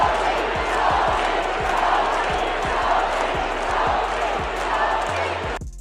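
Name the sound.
Indiana Fever basketball fans chanting "Sophie, Sophie"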